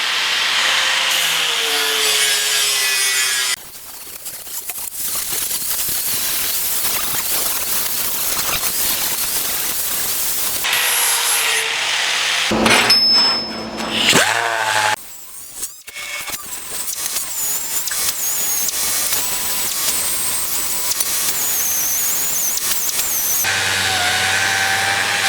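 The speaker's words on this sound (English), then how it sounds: "we're going to get the 8-inch DA out, one of the flat disc grinders, and a couple other things, and we're going to go to town cleaning this stuff up" An 8-inch DA sander and a flat disc grinder clean steel parts during a 1941 Willys Coupe build, making loud, continuous abrasive whirring in long runs broken by brief pauses and tool changes.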